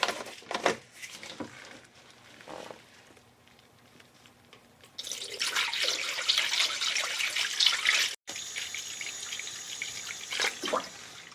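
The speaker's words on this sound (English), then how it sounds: "You can hear some of the air coming out of that bleed screw there." Coolant pouring into the cooling system of a 1999 Acura RL while air hisses and gurgles out of an open bleed screw, a steady close watery rush that starts quietly and grows louder partway through, with a brief break near the end.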